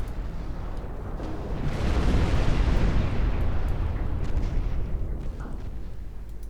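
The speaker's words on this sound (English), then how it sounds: "Got 5 torpedo hits out of that. And we've almost sunk 1 battleship." Torpedo hits exploding against warships in Ultimate Admiral: Dreadnoughts, a deep rolling roar of blasts that swells to a loud peak midway and then rumbles on steadily, with no voices.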